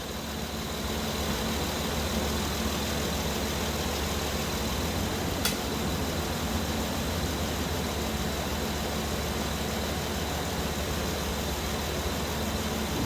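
Car engine idling steadily with an even, muffled hum and a constant noisy wash, unchanging throughout.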